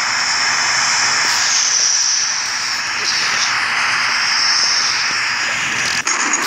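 Airplane engine in a flight simulator video game, a steady loud jet-like whine and rush sustained throughout, with a brief glitch near the end.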